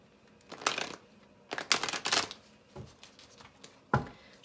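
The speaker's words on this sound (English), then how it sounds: "Shuffle a little bit this way." Tarot cards being shuffled in several quick riffling bursts separated by short pauses, close up and fairly quiet.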